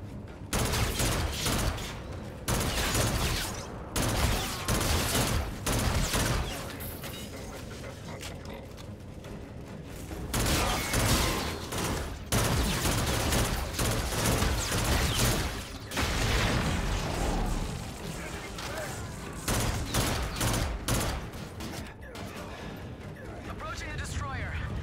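Heavy gunfire rattles through a Call of Duty: Infinite Warfare battle, loud bursts and sustained volleys with mechanical clanks, repeatedly dropping and resuming, while voices talk over the combat.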